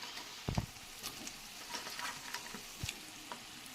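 Cauliflower mixed fry being stirred in a pan: soft oil sizzling under a few scraping strokes of a spatula, with light clicks and taps against the pan, close and fairly quiet.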